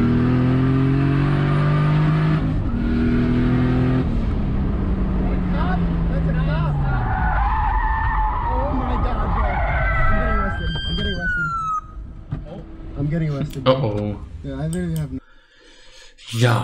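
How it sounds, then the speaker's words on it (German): A joyriding car spins out in front of a police officer, its engine roaring and tires scrubbing for several seconds before breaking into chirps and clatter, with voices talking over it. "These guys were going for a joyride and spun out their car right in front of a police officer."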